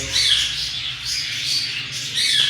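A pair of Eclectus parrots squawks loudly and steadily at close range, harsh cries overlapping almost continuously with no talk.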